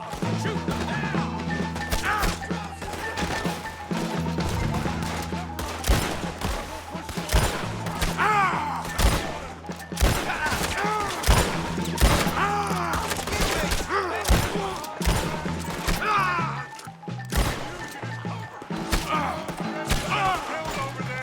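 Gunfire in the video game Red Dead Redemption 2, a dense run of crashing shots and impacts under shouting and game music, steady and loud throughout.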